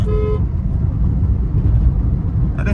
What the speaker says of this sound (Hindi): पता नहीं भाई हॉर्न पे हॉर्न हॉर्न पे हॉर्न बजाते रहते हैं